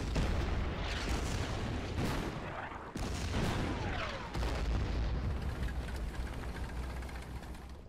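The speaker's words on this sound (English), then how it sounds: "Look at that artillery." Artillery fire in the video game Order of Battle: Burma Road, with several heavy booms and sharp blasts over a dense, continuous battle rumble, loud and without talk.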